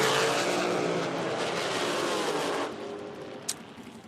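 Nitro drag racing car roars through a run at an IHRA Outlaw Nitro Series event, a loud, dense engine blast that fades after a few seconds, followed by a brief sharp click.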